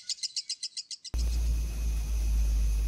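A lovebird gives a quick run of about ten high, evenly spaced chirps. A loud low rumble then cuts in abruptly while faint chirping continues.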